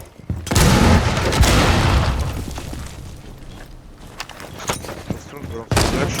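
A frag grenade blast and gunfire in the video game Rainbow Six Siege: a loud boom and a dense burst of shots, then scattered pops and further bursts of fire.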